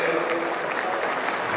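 A ceremonial crowd applauds a Deputy Minister at the opening ceremony of the PORNAS XVII KORPRI sports games in South Sumatra, a dense, even burst of clapping that fills the space throughout.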